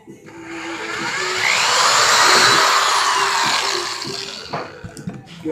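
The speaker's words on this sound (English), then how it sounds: "Drill my hole in here." A power drill bores a hole into a wooden hope chest, giving a loud, close whir that builds, holds for several seconds, then tails off into a few knocks and clatters.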